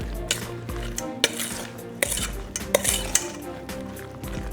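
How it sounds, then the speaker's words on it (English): Spoon clinking and scraping in a bowl as apple pie filling with sugar is mixed, close and repeated with irregular knocks and soft stirring between them, no voices. "Okay, just mix that around."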